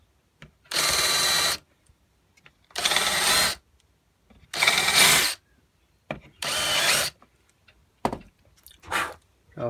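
Power drill countersinking screw holes inside a camper van conversion, heard as five or six separate loud bursts of whirring, each lasting about a second, with short silent pauses between them.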